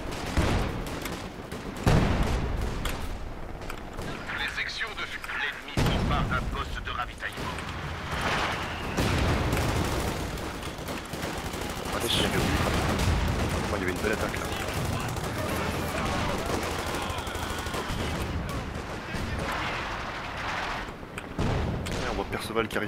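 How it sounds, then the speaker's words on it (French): MG42 machine gun fire in a D-Day World War II multiplayer shooter match, heard as sustained rattling bursts mixed with scattered gunshots and distant explosions, beneath steady talk from a commentator. "Qui a réussi à piquer une mitrailleuse là. Là-haut. Ah ouais. Une MG42."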